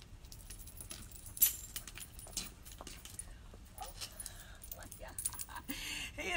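Dummy keys jangle in a few light metallic bursts, one sharper clink early on, with soft rustling and a quiet voice in the background.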